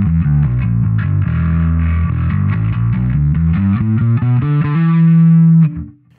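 A Relentless bass guitar with a sanded-down neck plays a loud, distorted riff of steady low notes through effects, ending on a sustained note that cuts off sharply near the end.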